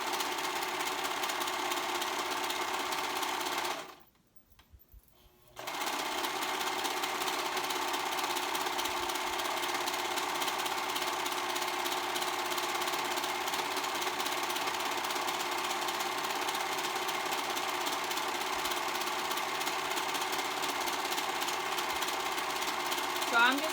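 A serger sewing machine stitching a fabric strap closed, running in a steady continuous whir that stops briefly once and then resumes for a long stretch, close by.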